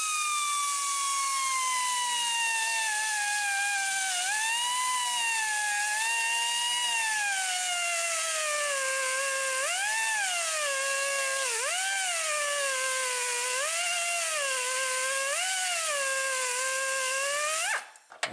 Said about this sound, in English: I'm going to be using my die grinder with a burr on there